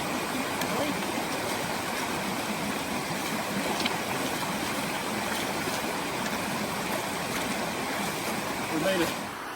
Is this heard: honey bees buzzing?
no